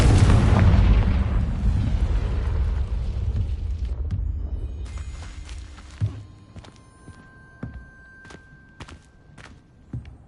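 A Confringo spell blast in Hogwarts Legacy opens with a loud, deep explosive burst that slowly fades away, followed by scattered footsteps and small pops as the rumble dies down.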